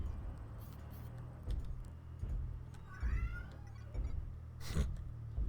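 A cat meows once in the middle, a short rising and falling cry, faint against a steady low hum and some soft knocks.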